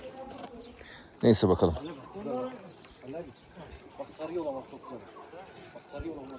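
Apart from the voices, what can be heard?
bird calls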